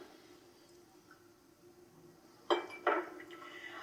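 A spoon works through a crumbly, chunky eggless dough of olive oil, pure maple syrup and vanilla in a bowl, giving two short, fairly loud scraping clatters near the end after a quiet stretch.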